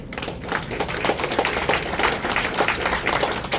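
A conference audience at a tech talk on open-source AI agents gives a dense, steady round of applause, many hands blending into a continuous patter with no voices.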